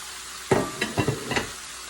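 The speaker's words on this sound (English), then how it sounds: "I'm just going to let it fry." Chicken fries in a pan with onions, a soft steady sizzle broken by a few sharp stirring scrapes and clunks, close and moderately loud.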